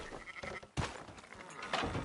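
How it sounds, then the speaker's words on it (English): Sheep bleat nearby in a short, lively outdoor scene, a couple of wavering calls rising over rustling and low background chatter. "Fine sheep."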